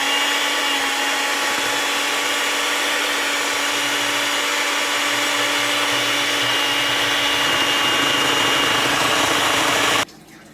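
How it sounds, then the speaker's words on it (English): A steady electric whir of a mixer beating banana bread batter, loud and continuous for about ten seconds before it cuts off abruptly. "I'm going to begin to mix this batter"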